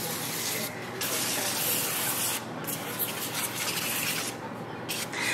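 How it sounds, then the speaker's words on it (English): Nonstick cooking spray hisses in several short bursts over a sheet pan of gnocchi and butternut squash. The bursts are close and loud, with brief pauses between them. "I'm going to spray everything with some nonstick cooking spray so that the seasoning sticks."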